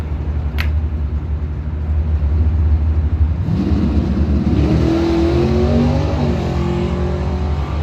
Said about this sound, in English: We got a broke run here for Steve 10 of the 89 Mustang out of Muskegon